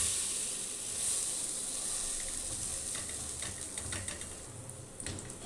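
Close, steady sizzle of a spicy bread omelette frying in a pan, egg-soaked bread crackling in oil with a few light clicks and scrapes near the end, no talking.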